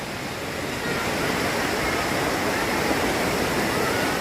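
A river rushes steadily past a riverside camping deck at Pangalengan, a dense, loud, continuous roar of flowing water that swells slightly after the first second.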